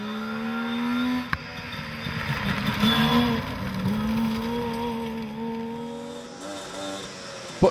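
Stephen Higgins' Saab rally car runs a historic rally stage, its engine droning and revving with pitch rising and falling through gear changes, fairly close and loud, ending with a sharp clunk.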